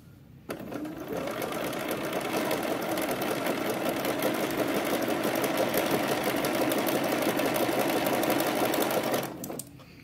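Sewing machine stitching a seam on a vintage-style babydoll pajama set, a steady rapid whirring motor running continuously for about nine seconds, starting and stopping abruptly, close and clear.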